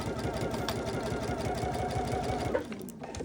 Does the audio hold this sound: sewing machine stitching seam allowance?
yes